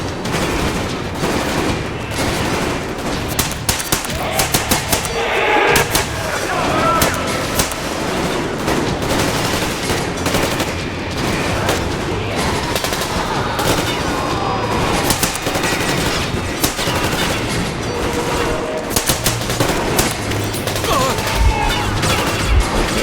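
Constant heavy gunfire in a large battle in the video game Metro Exodus: dense, loud automatic bursts and shots overlapping nonstop with booming impacts, with no talking.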